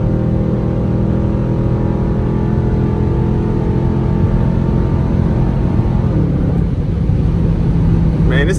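A 2021 Dodge Durango RT with straight pipe exhaust and an 8-speed transmission is driven hard at night, its loud, droning engine note climbing steadily before a gear shift breaks the tone near the end.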